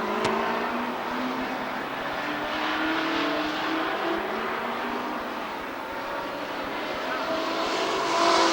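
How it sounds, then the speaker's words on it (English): NASCAR late model race cars warm up on the oval at Rockford Speedway during the 1994 Spring Classic, their engines blending into a steady, somewhat distant roar that holds for the whole stretch and swells slightly near the end. "Racing Series NASCAR late model heat race coming up here, 15-lap heat race."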